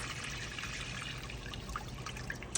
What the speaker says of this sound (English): Just adding those 4 cups of water.